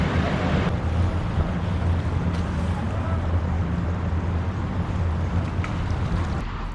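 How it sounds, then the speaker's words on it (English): A steady low engine rumble with water wash and wind noise, continuous throughout, as tour boats pass close by on the San Antonio River Walk. "Watched the Riverwalk cruise tour boats go by."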